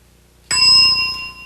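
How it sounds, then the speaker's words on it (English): A game show bell strikes once after a short silence, giving a bright, loud ding that rings on with a clear sustained tone and slowly fades. "describe it at the sound of the bell"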